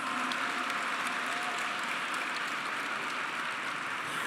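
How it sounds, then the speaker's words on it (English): A crowd at a Black History Month closing ceremony in San Francisco applauds, producing a continuous, even patter of many hands that sounds somewhat distant and stays fairly soft throughout. "Let's give yourselves a round of applause."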